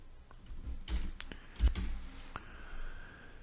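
Sparse keyboard clicks and taps, a few scattered keystrokes with a sharper thump partway through, close by and fairly quiet.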